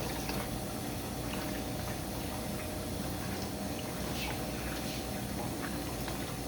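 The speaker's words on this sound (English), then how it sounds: "the water actually runs down the frame and does half of your job for you" Water runs steadily down a polycarbonate chocolate ganache frame held angled in a sink, a constant close rushing splash with no pauses.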